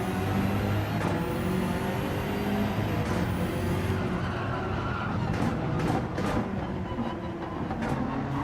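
A Honda NSX race car in a racing video game accelerates hard out of a corner at Bathurst. A steady, dense engine roar with rising tones runs throughout, with other cars layered underneath.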